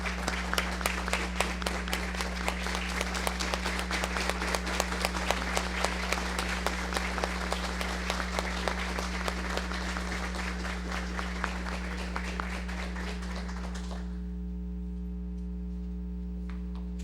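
Steady, sustained audience applause fills a civic ceremony honouring Roberto Rilo Bíscaro, clapping evenly for about fourteen seconds before stopping abruptly, leaving a low electrical hum.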